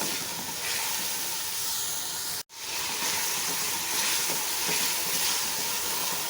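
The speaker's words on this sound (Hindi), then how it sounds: "यहाँ पे मैं शामिल करूँगी ग्रीन चिली का पेस्ट, खूब अच्छी तरह से भुने" Green chili paste and spices fry in a pan for a beef bong paya curry, giving a steady close hiss and sizzle that runs continuously, broken only by one very brief dropout partway through.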